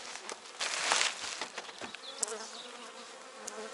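Honeybees buzz inside an opened hive nucleus colony, a soft steady swarm hum with brief louder passes of individual bees close by, no voices.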